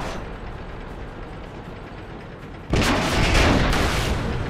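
A tank cannon shot in World of Tanks lands as a sudden loud broadband boom partway through, then a sustained rumbling roar that stays heavy to the end over a low battle din.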